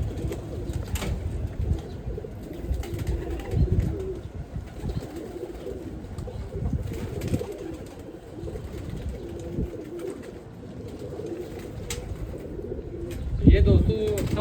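Pigeons coo in a low, steady murmur around a loft with continuous background noise and a brief louder flutter near the end; someone talks at times over the birds.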